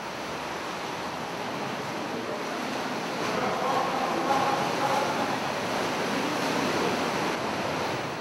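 Ocean waves surge into a sea cave on a Japanese coastline, a continuous broad wash of water that swells louder midway and hisses with a faint wind, with no voices.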